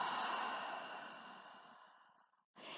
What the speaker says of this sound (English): full Ujjayi breath in through the nose